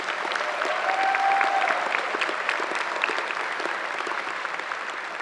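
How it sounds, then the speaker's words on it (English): At a medical college hooding ceremony, an audience applauds award winners with a sustained, moderately loud wash of clapping from a large hall crowd, steady throughout with a brief faint tone in the background and no talking. "Let's have a round of applause for all of our award winners."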